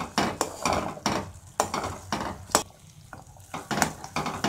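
Sugar syrup being cooked and stirred in a pan for a mawa dry fruit gujiya sweet, with repeated scraping and clinking strokes in an irregular rhythm over a soft bubbling sizzle, close and moderately loud.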